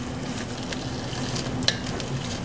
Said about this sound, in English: Stir that just for a minute.